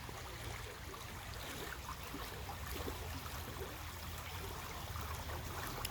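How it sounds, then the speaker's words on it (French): A small stream flows in the morning, a faint, continuous babbling trickle with a steady soft wash, no voices. "je me lasse pas d'entendre le bruit de l'eau le matin. Avec le petit ruisseau qui passe là."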